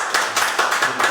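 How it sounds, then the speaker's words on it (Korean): Guests are welcomed with applause at a press conference for peer.NA, a brief run of close, rhythmic hand claps without voices. "따뜻한 마음을 담아 뜨거운 환영의 박수 감사드립니다"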